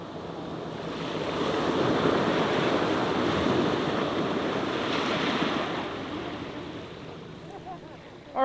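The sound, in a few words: waves at rocky intertidal shore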